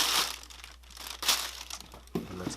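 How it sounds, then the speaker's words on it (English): Black tissue paper crinkles inside a shoe box for an original 1991 Air Jordan 6, with close, loud rustling bursts that come and go, then a final sharper rustle. "Okay, and it comes with black tissue paper."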